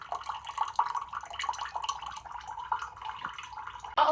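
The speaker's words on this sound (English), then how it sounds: "I have to use the water filter, and it's just a little pea drizzle" A thin stream of water trickles and drizzles steadily from a water filter, fairly close, with a brief louder splash near the end.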